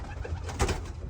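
Racing pigeons coo in low, throaty bursts on a ranch, a steady murmur of several birds with one louder coo rising near the middle, close and continuous with no talk.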